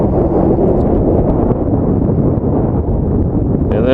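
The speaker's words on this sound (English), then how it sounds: "hopefully you can hear me over the wind" Wind buffets the microphone in an open volcanic field with lava flows, a steady low roaring rumble that fills the whole clip without letting up.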